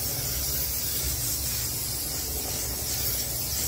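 Cooking spray hisses steadily from a can onto tortillas in a home kitchen, one continuous close spray with no pauses.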